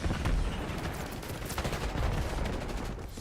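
Rapid bursts of video game gunfire crackle continuously, dense overlapping shots and automatic fire filling the whole stretch at fairly close range.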